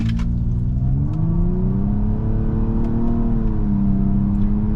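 A 2023 Nissan Maxima SR with a CVT pulls away from a stop, its engine droning steadily and rising in pitch, loud and close with no speech.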